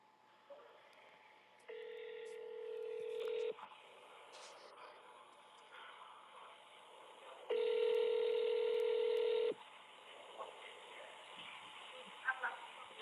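Recorded telephone call playing back, with two long steady dial-type tones and faint dialing beeps between them over a hissy line, fairly loud and without talk.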